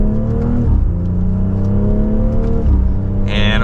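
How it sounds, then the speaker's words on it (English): A 2024 BMW X3 M40i accelerates hard, its engine rising in pitch through the gears with a brief dip at a shift, a loud, steady whir heard from inside the cabin. "Let's do one more acceleration."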